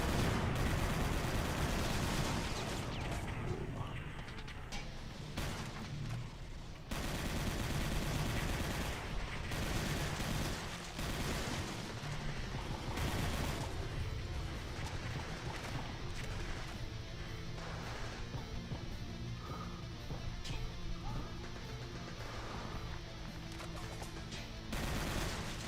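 Dense, loud gunfire and blasts in the first-person shooter Brutal Doom 64, with rapid bursts and heavy booms filling nearly the whole stretch, broken by a few brief lulls.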